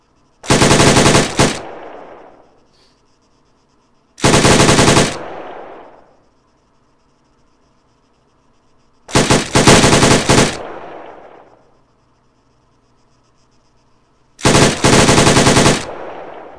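Loud bursts of automatic machine gun fire from a video game with a bipod-mounted weapon, four separate volleys about a second each, spaced by pauses, every burst trailing off in a short echoing tail, no voices.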